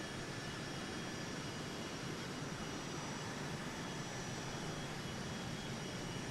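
Inside a Phenom 100 jet descending through clouds, a steady broadband cabin roar of engine and airflow holds constant throughout with no talking.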